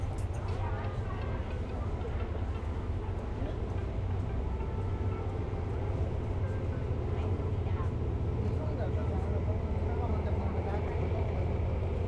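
A train pulling out of Saraburi railway station in Thailand, a steady low rumble and rolling noise that stays loud and even throughout, with faint clicks of wheels on track above it.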